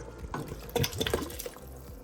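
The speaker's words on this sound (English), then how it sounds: "I'm gonna go ahead and add in my whole bottle of clam juice" A whole 8-ounce bottle of clam juice pours into a pot of razor clam chowder, a close, steady liquid splash and gurgle lasting about two seconds.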